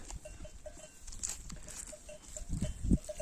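Ewes with their lambs in a barn, with bleating and livestock shuffling close by, a soft bell-like clink recurring through it and a heavier thump near the end.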